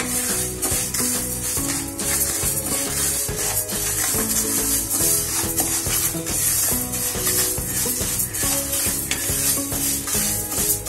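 Bhajani flour mix roasts in a pan over low gas, its soft sizzle and stirring scrapes under a steady, loud layer of background music throughout.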